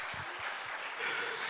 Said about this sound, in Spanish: dele un fuerte aplauso al Dios que vive y reina